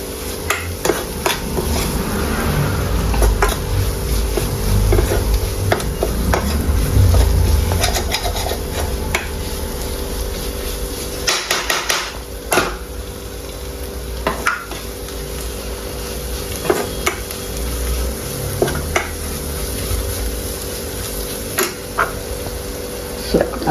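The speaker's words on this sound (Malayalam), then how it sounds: "നല്ലപോലെ ഇളക്കിക്കൊണ്ടിരിക്കണേ" Spice powders for a crab curry sizzle in a pan under steady stirring, with repeated close scrapes and taps of the spoon and birds cooing faintly in the background.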